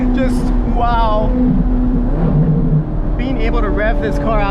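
A Ferrari 430 Scuderia's naturally aspirated, highly tuned engine drones steadily while driving a canyon road, a loud, close engine tone under someone talking over it.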